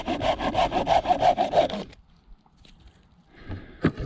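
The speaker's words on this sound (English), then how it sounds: "we're just going to saw the tip off this knot and see what we can see" A hand saw cutting the tip off a wood knot of Australian fatwood, about ten quick rhythmic rasping strokes close up, then a pause with light handling sounds.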